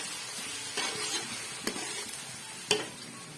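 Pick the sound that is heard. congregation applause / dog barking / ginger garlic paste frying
ginger garlic paste frying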